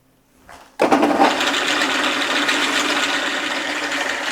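A South Bend metal lathe starts up abruptly and runs steadily while cutting a thread undercut, giving a continuous close mechanical whir with a slight hum underneath, preceded by a faint brief noise.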